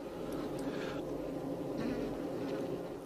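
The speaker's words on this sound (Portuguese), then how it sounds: "Esta operária, recém-saída da célula, seca suas asas" A newly emerged honeybee worker, just out of its cell, dries its wings with a steady, close insect buzz that holds throughout, with brief brighter swells and no voices.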